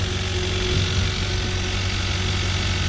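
A Cummins 5.9 diesel engine idles steadily, a loud, close, even rumble with a faint knocking texture and no talk over it.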